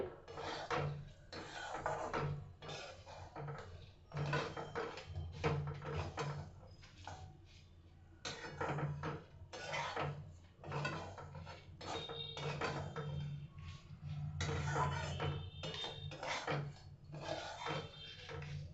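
Oats being dry-roasted in an empty kadai, heard as soft repeated scraping and clinking of a spatula against the pan in irregular bursts, close and fairly quiet.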